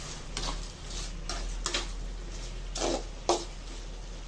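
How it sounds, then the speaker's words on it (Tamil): Onions and tomatoes being stirred in a cooking pan give several scraping strokes of a spoon against the pan at an irregular pace, over a low steady sizzle and hum, close and clear with no talk. "இப்போ அங்கே ஒரு கிண்டி கிண்டி விடலாம் தக்காளி கொஞ்சம் நல்லா வரணும்"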